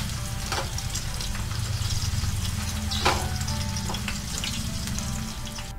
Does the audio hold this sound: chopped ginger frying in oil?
yes